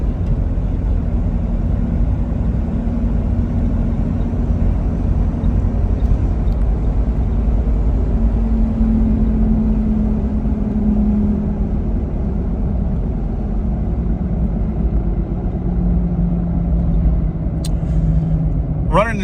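A 2000 Jeep Cherokee XJ with 57K miles and all new parts rolls along on a test drive, its engine and road rumble forming a steady, continuous drone from inside the cabin. A faint clatter comes near the end.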